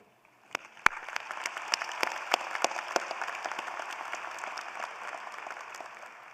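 Applause from the audience at a college graduation commencement ceremony begins with a few sharp, separate claps and swells into steady clapping from many hands, heard at moderate distance and without any voices.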